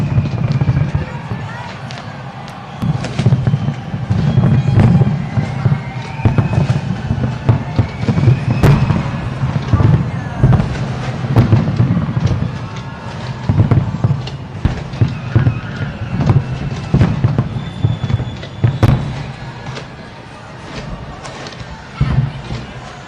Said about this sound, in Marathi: तसंच फटाक्यांची आतषबाजी देखील करण्यात आली.